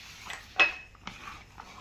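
Chicken drumsticks being tossed with spices in a bowl, with a few close clinks and scrapes of utensil against the bowl and soft wet mixing sounds in between.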